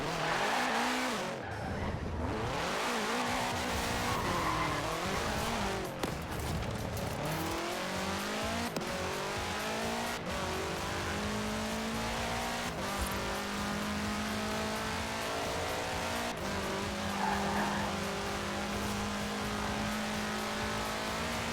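A 1966 Volkswagen Beetle fitted with a 2.5-liter F4 turbo engine drives in Forza Horizon 4, its engine note rising and falling steadily throughout with occasional tire squeal, loud and close with no talking.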